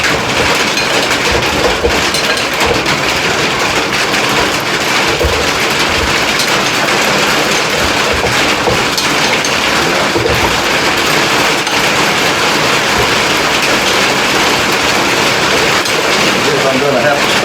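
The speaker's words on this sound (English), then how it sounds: "The rain, you're going to be hearing some clunking on my roof." Heavy rain pounds a roof in a dense, continuous roar with scattered clunks and patters throughout, loud and close, while a voice is faintly buried beneath the downpour.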